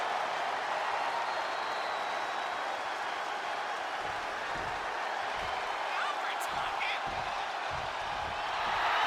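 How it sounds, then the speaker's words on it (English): Arena crowd noise for AJ Lee in the WWE 2K26 wrestling game, a steady broad roar of cheering and applause throughout, with a few thuds of in-ring impacts midway and a low commentary-like voice underneath. "AJ Lee getting the crowd riled up right now."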